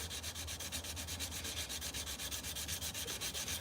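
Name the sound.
cleaning up a knife with a stone and sandpaper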